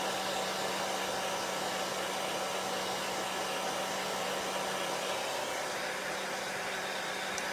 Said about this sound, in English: I do need to dry because I'm going to be layering